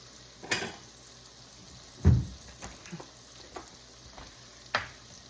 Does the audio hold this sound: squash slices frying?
yes